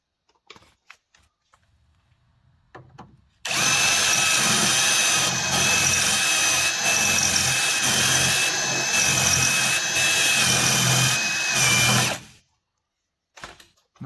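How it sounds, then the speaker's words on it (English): A handheld power drill with a regular bit bores out spot welds on the steel rocker panel of a 1986 GMC Vandura, whining loudly and steadily for about nine seconds with rhythmic surges, after faint clicks and before silence. "So I'm just drilling out the spot welds"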